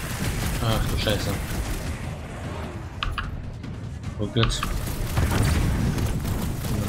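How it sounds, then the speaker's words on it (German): An explosion in a Guardians of the Galaxy video game, a dense booming rumble running through the whole stretch under game music and effects, with a voice reacting briefly. "Eine saubere Explosion."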